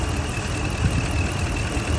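A high-mileage Ram 1500 pickup engine idles while warming up, a steady, loud low rumble with a constant hum, close by and without talk.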